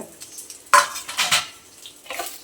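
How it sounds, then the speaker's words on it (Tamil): Grated coconut and curry leaves sautéed lightly in a pan for Chettinad crab gravy, with clattering spoon-on-metal scrapes and clinks over a soft sizzle, loud and close. "இது போட்டோன்னே தேங்காயும் போட்டுருங்க ஒரு ரெண்டு கருகாப்பிலையும் போட்டுக்கோங்க"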